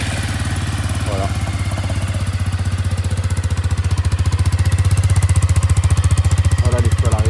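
A Maxxer 450 quad bike engine idles steadily after starting, a loud, close, even rumble with a rapid regular pulse that grows slightly louder midway; brief voices are faintly audible beneath it.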